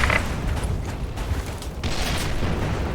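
A grenade explodes in the online shooter game SF2 with a booming blast amid mechanical clatter and rumbling battle noise. It sounds fairly loud, with no voices over it.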